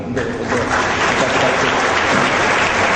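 Applause from a crowd at a university graduation ceremony in a hall, dense and steady clapping sustained throughout at a loud, even level.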